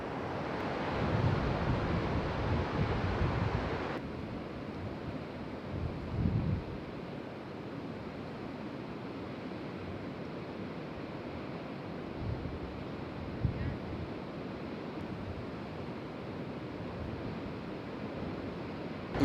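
Ocean surf rolling in beside the Ilbarritz golf course, a steady broadband wash of waves with wind buffeting the microphone, louder in the first few seconds and then an even, continuous roar with no voices.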